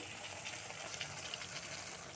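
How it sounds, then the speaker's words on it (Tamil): A tumbler of water is poured into a cooking pan holding a raw banana chops masala, giving a faint, steady gushing hiss that lasts throughout with no voices. "நல்லா ஒரு டம்ளர் தண்ணி நிறையா ஊற்றி மூடி வச்சுருங்க"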